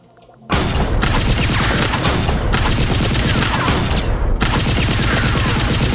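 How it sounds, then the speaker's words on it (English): Sustained machine gun fire in a video game, loud and close, with rapid continuous bursts broken by a few brief pauses after a quiet start. "Let's try with the machine gun."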